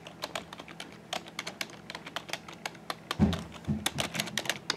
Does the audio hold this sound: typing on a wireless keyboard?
yes